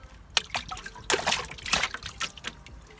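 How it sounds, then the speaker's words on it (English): Wet paper pulp poured into a big bucket for homemade recycled paper, a close, uneven trickle and slosh with soft splashes and drips across a few seconds. "You're gonna pour this into your big bucket."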